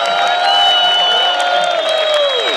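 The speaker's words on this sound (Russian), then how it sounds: "Друзья, аплодисменты человеку, который воспитал главного российского бойца." A crowd at an Eagles MMA event applauds and cheers in welcome for Khabib's father, a steady, loud wash of clapping and cheering lasting throughout, with bright tonal music sustained underneath.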